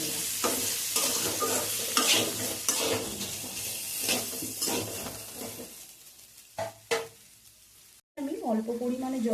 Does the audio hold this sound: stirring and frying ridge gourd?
yes